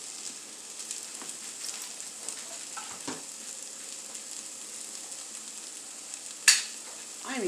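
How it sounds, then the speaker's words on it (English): Vegetables frying in olive oil in a preheated pan, a steady close sizzle with occasional utensil clinks and stirring scrapes, one sharp clatter near the end, no talk. "Once your pan is preheated and you've got your olive oil, those vegetables that we were working with earlier, just kind of throw them in there."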